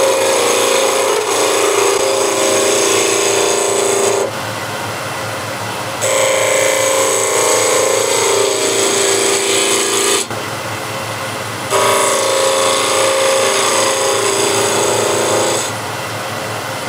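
A woodturning tool cuts wood spinning on a lathe, making a loud, steady rasping hiss in three long passes broken by short quieter gaps, heard close up with no talk.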